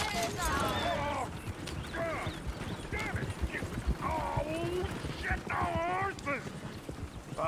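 Horse hooves clip-clop in Red Dead Redemption 2, a steady trotting rhythm close by, mixed with a horse's whinny and running under overlapping character dialogue.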